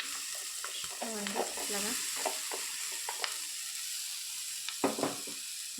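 Chopped small pieces tipped into a pan of curry, sizzling steadily as a spoon scrapes and stirs in short strokes; a voice speaks briefly over the close, continuous frying.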